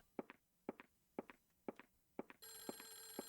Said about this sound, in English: I did hear a phone.